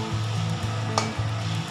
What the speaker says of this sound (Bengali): ভালো করে নাড়তে হবে যেন কড়াইয়ের তলায়